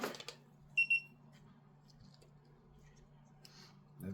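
A short high electronic startup beep from an FPV drone after battery connection, a couple of quick tones over a faint hum, with soft clicks and handling noise around it.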